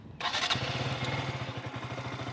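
A motorcycle engine cranks and fires up abruptly, then settles into a steady, close-up rhythmic idle with a pulsing low putter.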